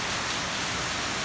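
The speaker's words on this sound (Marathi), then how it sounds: "कंटिन्युअस पाऊस आहे." Heavy, continuous morning rain falls in Nagpur after a night of lightning, a dense and steady hiss with no breaks and no voices.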